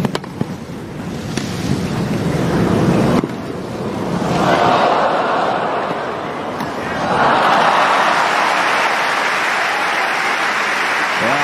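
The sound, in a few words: crowd applauding after a Wimbledon tennis rally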